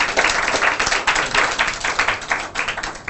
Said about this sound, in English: can you give him a big round of applause again, please?